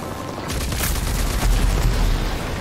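Sustained rapid gunfire aimed at the player in the shooter game Rage 2, a loud dense fusillade that kicks in after a brief quieter start and keeps rattling with heavy low booms throughout.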